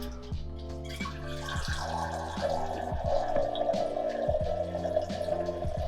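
Water drains and splashes steadily out of an opened sprinkler backflow valve, a close trickling gurgle with dripping running throughout.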